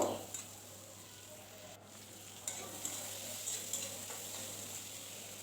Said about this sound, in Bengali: আর এবার দিয়ে দেব আলু কাঁচা লঙ্কা পেঁয়াজ রসুন